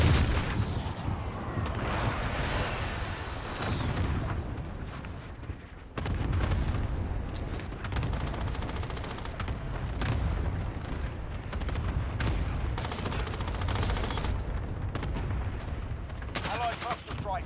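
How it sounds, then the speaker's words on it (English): Airstrike explosions in Call of Duty Warzone, a dense run of loud blasts and gunfire-like bursts that fill the whole clip, with a brief dip near the middle. "Be advised, friendly precision airstrike inbound."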